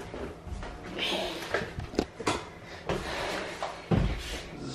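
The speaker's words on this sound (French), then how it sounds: "faut que tu ouvres la porte." Indoors, a door is opened with several knocks, clunks and brief scraping bumps, close and moderately loud, amid light shuffling.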